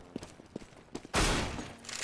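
In a video game, a few sharp gunshots pop at intervals, then a loud sustained burst of gunfire and explosive noise erupts and fills the rest of the clip.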